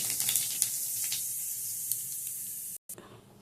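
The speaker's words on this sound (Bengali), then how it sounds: "কড়াইতে দিয়ে দেবো জিরে" Cumin seeds, bay leaf and dried chillies hitting hot oil in a wok, a bright steady sizzle with small pops that cuts off briefly near the end, close and alone.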